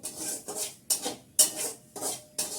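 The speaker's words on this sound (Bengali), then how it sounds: "কড়া পুড়েছে, কড়া মাজতে হবে ভালো করে। পিতাম্বরী দিয়ে মাজতে হবে।" Close, rhythmic scrubbing of a burnt iron wok with Pitambari cleaner, six rasping strokes at an even pace of about two per second, each a gritty abrasive swish.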